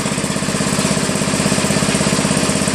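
A Craftsman LTV 10 Varidrive lawn tractor engine, a scrapyard find, runs with a steady rapid chugging pulse, loud and close, with no talk over it.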